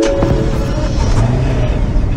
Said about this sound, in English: That's a startup sound that I've never heard before